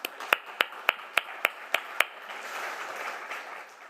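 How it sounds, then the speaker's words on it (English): Audience applause at an ArtTech Forum event starts as a handful of sharp, evenly spaced claps, then spreads into a softer, diffuse wash of clapping from the crowd. "I don't think she deserves enough applause, Nathalie Pichard, for everything that she d"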